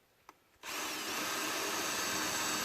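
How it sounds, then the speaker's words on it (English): A power drill starts after a brief quiet tap and then runs steadily, whining loudly as it drills at an angle into wood with bark for a couple of seconds without stopping. "I'll drill this at kind of an angle"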